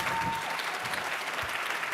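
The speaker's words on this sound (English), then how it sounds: "Big round of applause" Audience applause at a London startup founders' pitch event, a dense, even roar of many hands clapping together without pause for the full two seconds.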